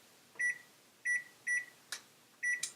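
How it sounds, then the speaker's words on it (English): An oven timer beeps while being set in a home kitchen during granola cookie baking: four short, bright double beeps at a steady pace, with a couple of faint clicks between them, in a quiet room. "I'm going to set the timer just to be safe."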